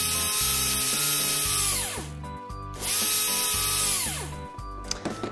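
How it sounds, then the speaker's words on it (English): A power drill whirs loudly in two bursts while patching a toy convertible at a repair shop, its pitch winding down at the end of each run, with a few clicks between. "let's patch this up with the drill."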